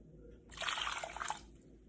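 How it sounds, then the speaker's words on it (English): Water is poured into a bowl of chopped cabbage, a brief splashing trickle of about a second that starts abruptly and stops, close and fairly soft in a quiet room. "Pour in around 2 bowls of water."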